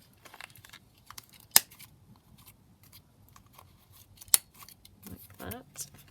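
Sharp scissor snips round the corners of paper ephemera at a craft table, two crisp isolated cuts separated by a few seconds of quiet, with soft paper handling and rustling in between.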